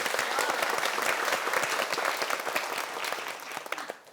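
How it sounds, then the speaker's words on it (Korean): A studio audience breaks into continuous, full applause for a correct quiz answer, a dense wash of clapping at even strength throughout. "박수 한번 주세요"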